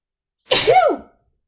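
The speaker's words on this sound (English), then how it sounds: "I'm gonna sneeze." A single sharp sneeze, close and loud, bursting out after a moment of silence and trailing off quickly.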